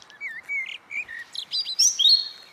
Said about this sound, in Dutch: Ik denk ofwel een roodborstje, ofwel een vink.